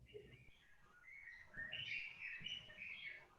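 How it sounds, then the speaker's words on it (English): Birds chirp and trill faintly in the background outdoors, a run of quick high twittering calls that rises in the second half, distant and soft, with no one talking. "I like the bird sounds."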